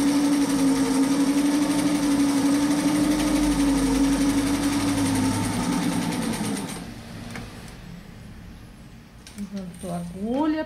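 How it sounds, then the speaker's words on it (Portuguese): A sewing machine runs a straight stitch with invisible thread, a steady fast whirring hum for several seconds that then stops, followed by someone speaking. "Aqui para costura eu uso 3, a largura do ponto 3, posicionamento da agulha no meio, costura reta e costurar."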